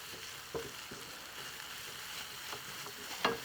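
Onions and brown sugar cooking in a hot pan, a faint steady sizzle with occasional soft scrapes and one sharper clink of a utensil near the end, no voices.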